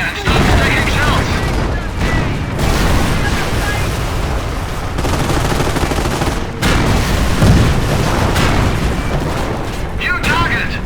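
Battlefield combat from the World War II strategy game Company of Heroes, set around Operation Market Garden: dense, continuous rumbling of artillery blasts and rattling gunfire, loud and unbroken, with soldiers' voices shouting over it.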